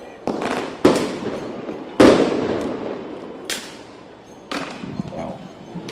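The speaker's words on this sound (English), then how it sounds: "All flashbangs from the PD." Police flashbang grenades going off in a series of sharp, loud blasts, about five bursts over several seconds, each with a booming tail, heard outdoors at moderate distance.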